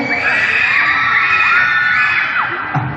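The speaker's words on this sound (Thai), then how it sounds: "ใครคิดว่าน้องกิ๊กสุดยอดเขาเสียง" A large crowd, many sounding like children, shouts and cheers loudly and continuously to vote at an Isuzu event, with whoops rising above the roar.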